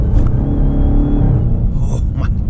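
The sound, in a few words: Dodge Charger SRT Hellcat Widebody engine, automatic transmission upshifts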